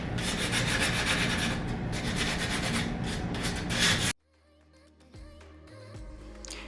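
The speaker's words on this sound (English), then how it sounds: "Using 100 grit sandpaper," Coarse 100-grit sandpaper scrubs rhythmically over a primed and painted wooden dining table to distress its edges. The rasping strokes are close and steady for about four seconds, then stop abruptly, leaving only faint background sound.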